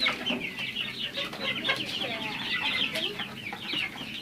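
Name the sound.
chickens clucking on a rooftop poultry farm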